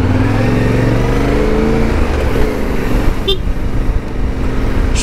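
Dense city traffic heard from a motorcycle in Turkey, with a loud continuous engine drone, cars accelerating nearby and a couple of short horn toots toward the end; no speech.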